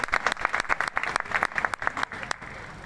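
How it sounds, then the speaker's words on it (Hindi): An audience at a sanitation workers' commission event in Khatauli claps to welcome a speaker, giving steady, dense applause from a crowd that eases off slightly toward the end. "ताली से स्वागत के साथ ही"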